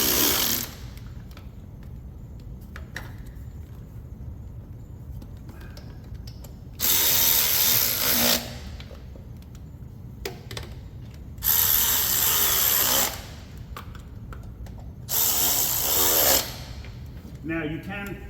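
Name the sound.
tightening bolts on a 2004 Silverado 6.0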